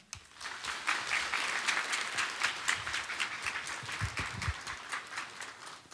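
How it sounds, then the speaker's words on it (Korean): A church congregation applauds to welcome a pastor to the pulpit before a sermon, steady broadband clapping from a sizeable crowd that holds at an even level for the whole stretch, with no talking over it. "목사님을 환영하면서 큰 박수로 모시겠습니다"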